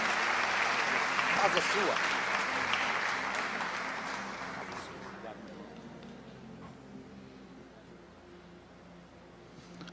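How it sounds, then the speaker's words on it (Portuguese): A church congregation applauds a pastor being welcomed to the stage, the clapping loud and dense at first, then thinning and fading away over the following seconds, with a voice speaking briefly over it. "Vamos receber ele com um aplauso."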